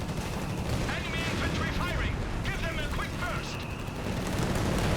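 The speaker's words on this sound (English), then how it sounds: "In a not too surprising maneuver, we do get the Nebelwerfer out here for Ray." Nebelwerfer rocket artillery opens fire in a Company of Heroes 3 match, a dense rumble of launches and explosions that runs throughout while a commentator talks over it.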